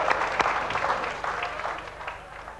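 An audience claps steadily for a sports quiz winner at a 1989 Dutch sports awards evening, a dense, even wash of applause that thins slightly toward the end.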